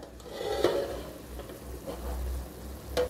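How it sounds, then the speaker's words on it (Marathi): Ground masala fries in a hot pan for a mixed offal (vajdi) curry, with a low, steady sizzle and a few scraping stirs of a spoon against the pan. It is close and moderately quiet, with no talk. "त्यामध्ये मसाला घालून फ्राय करून घ्यायचा।"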